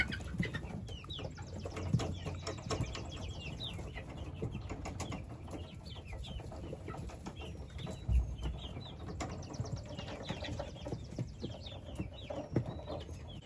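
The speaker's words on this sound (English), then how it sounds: "I could just watch them for hours, man. Just running around being chickens." Young backyard chickens, not yet laying, cluck and chirp steadily while moving about, with soft scattered calls and occasional wing flutters over a constant low outdoor rumble.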